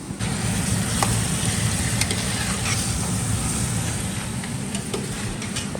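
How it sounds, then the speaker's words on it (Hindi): Onions and tomatoes frying in oil for Karachi-style biryani, a loud continuous sizzle with faint crackles and occasional clinks, heard close up. "अभी प्याज और टमाटर को लाल कर रही है ना?"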